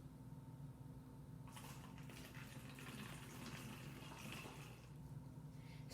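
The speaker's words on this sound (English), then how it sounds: "Pour a half cup of vinegar into the water bottle." White vinegar pours into an empty plastic water bottle as a faint, steady trickle starting partway through, with a low background hum running throughout.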